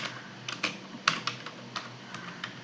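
Keys clatter on a computer keyboard in short irregular bursts of soft clicks, close and fairly quiet, with no voices.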